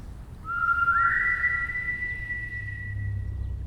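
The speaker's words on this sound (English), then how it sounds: "a sharp whistle pulled them from their much-needed relaxation" A single sharp, high whistle rises quickly and holds for a few seconds before fading, over a low rumbling background.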